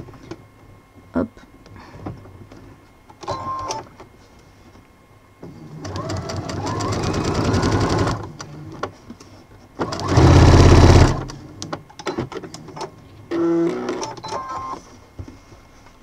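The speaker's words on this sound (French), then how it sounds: "Je vais le coudre, cette première partie." A domestic sewing machine stitches bias binding onto fabric, running in two close, steady whirring bursts with quieter pauses and small handling noises between them.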